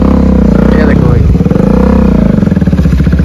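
Off-road motorcycle engines growl and rev loudly up close as three bikes struggle through deep sand, the throttle rising and falling while riders help one another along, with voices talking over the engine noise.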